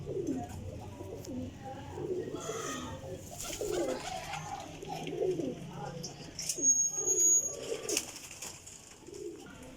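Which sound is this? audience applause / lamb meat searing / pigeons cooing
pigeons cooing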